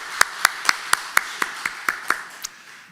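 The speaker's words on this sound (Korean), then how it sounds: "우리 성가대를 위해서 한번 박수로 격려해 주시면 고맙겠습니다" During a Korean church Sunday service, about ten crisp, evenly spaced claps ring out close by in a steady rhythm for the choir, fading slightly before stopping.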